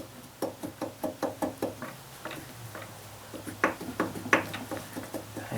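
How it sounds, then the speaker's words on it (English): A worn piston knocking in an old Wolseley engine with the head being inspected, sounding as a close, rapid series of sharp metallic taps in uneven bursts over a steady low hum. "That's the knock I hear too, honestly."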